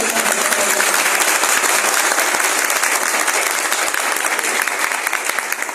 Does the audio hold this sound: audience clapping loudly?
yes